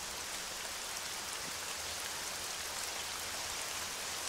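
Steady rain pours down in a survival video game, a dense even hiss with no pauses or voices, loud and constant throughout.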